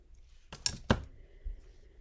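Scissors make two or three quick snips through lace for a lace book, close and soft, with a faint thump afterward and no talking.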